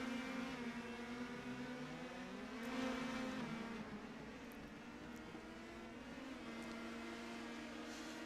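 Indy Pro 2000 open-wheel race cars in the iRacing simulator drone past with overlapping engine notes rising and falling as they come out of the final corner, a continuous layered buzz at moderate volume with no talk.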